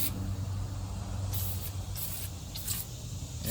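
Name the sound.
spraying battery cleaner on John Deere 2155 battery tray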